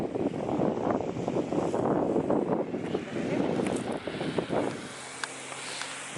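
Steady wind buffeting the microphone on a seaside beach walk in southern Sweden, a broad rushing roar that eases slightly toward the end, with faint background sounds underneath.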